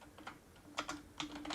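Bursts of keystrokes on a computer keyboard while entering a network command, clustered clicks in three quick groups, close and moderately quiet, with no voices.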